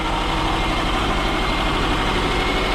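A 2006 Subaru Forester engine runs continuously at close range, a steady loud rumble with a slightly rough, uneven note from a misfire, no voices.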